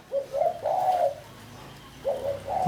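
A former decoy bird, now kept as a house guard, calls in clear cooing phrases: two drawn-out calls, a pause, then two more starting again, close and alone with no talk.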